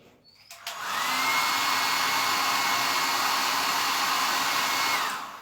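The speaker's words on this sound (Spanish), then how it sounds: "voy a secarlo con un secador de pelo" A hair dryer blows to dry paint on an artwork, switching on after a short pause and then running as a steady, loud, close whoosh with a faint whine until it cuts off near the end.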